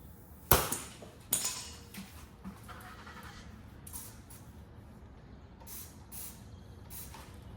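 Soapy water sprayed onto a tire bead to check for leaks: two sharp hissing spray bursts near the start, then quieter intermittent spritzes over a low background hum, close and without talk.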